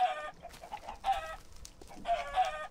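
Minecraft chickens cluck in short bursts with soft pauses between, a few calls over a quiet game background and no speech.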